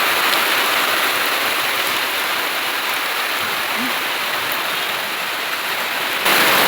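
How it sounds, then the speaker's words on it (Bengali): Heavy rain pours down steadily, a dense, loud, continuous wash of falling water with no talk over it. "বৃষ্টি নেমে গেল, দেখো জোরে বৃষ্টি হচ্ছে।"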